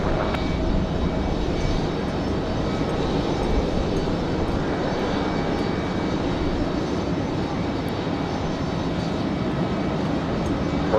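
An airliner landing at Raleigh-Durham airport produces a steady, loud, broadband engine roar that holds level throughout, with no talk over it.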